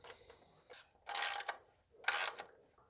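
Intake manifold nuts on a Mini Cooper S 1.6 being spun on by hand, two short close metallic rasping turns about a second apart, with faint clicks between, quiet and alone.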